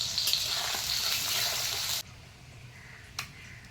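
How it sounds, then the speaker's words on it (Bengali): Onions frying in oil in a pan for a crab curry, a steady bright hiss for two seconds that then cuts off, leaving a faint quiet background with one brief tap. "পেঁয়াজটা মোটামুটি ভাজা হয়ে গেছে"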